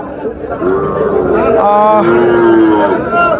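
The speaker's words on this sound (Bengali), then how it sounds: "চান্দাইকোনা গরুর হাটে ছিলাম আমরা" Cattle low at a busy cow market in Chandaikona, Sirajganj, with a drawn-out moo rising from the crowd's constant chatter and nearby voices.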